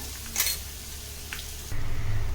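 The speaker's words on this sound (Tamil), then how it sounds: "இதை போட்டு ஒரு நிமிஷம் வதக்கிக்கலாம்" Ground chili paste sautéing in a pan, with a couple of sharp utensil scrapes followed by a louder sizzle as the paste hits the hot surface.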